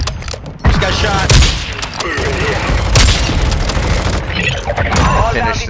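Sniper fire in a video game: several loud, sharp gunshots burst out over a busy background of battle noise and mechanical clatter, spaced a second or more apart.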